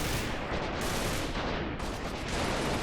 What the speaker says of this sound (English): Oh, grenades going off.